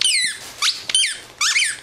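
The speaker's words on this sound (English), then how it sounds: "She looks like she's just gonna keep squeaking." A dog squeezes a squeaky turkey-leg toy, giving several loud, high, sliding squeaks in quick bursts separated by short pauses, heard close by without talking.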